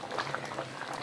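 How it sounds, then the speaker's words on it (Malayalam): Potato curry bubbles at a steady rolling boil in a pot, a brief burst of close, continuous bubbling and popping. "അപ്പോൾ നന്നായിട്ട് തിളച്ച് വന്നിട്ടുണ്ട്."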